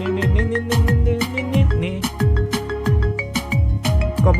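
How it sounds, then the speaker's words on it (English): Bright, repeating electronic ringtone melody from a video game phone, with chiming notes cycling in a steady rhythm, loud and up close with no talking. "my phone begins to randomly ring in my pocket"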